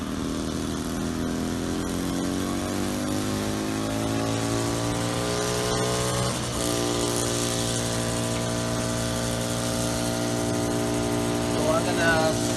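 An SK1000 UAV helicopter's engine winds up steadily, its rising harmonic whine climbing in pitch through the clip, with a brief dip and recovery midway, loud and continuous close by.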